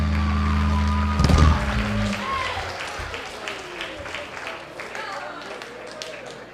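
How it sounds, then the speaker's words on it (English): An audience at a presentation breaks into applause after a loud thump and music cut, the clapping rising as a dense wash and then continuing at moderate volume with voices mixed in. "Give yourselves a round of applause"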